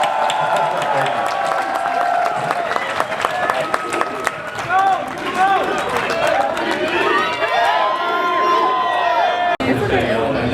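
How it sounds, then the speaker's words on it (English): A crowd applauds and cheers for Kobe Bryant at a live book event, with sustained clapping, whoops and chatter filling the room at close range, briefly cutting out near the end before resuming. "So everybody give a round of applause for Kobe Bryant."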